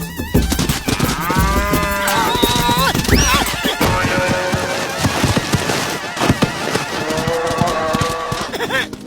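A buffalo in a cartoon moos loudly and repeatedly, mixed with horse-like whinnies and clopping farmyard noises in a dense, busy comic soundtrack.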